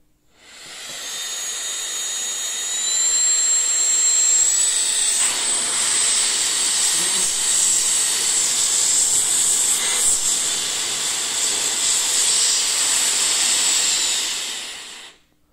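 A loud, steady blast of rushing air with a high-pitched whine from an electric compressed air duster, ramping up at the start and holding strong before cutting off.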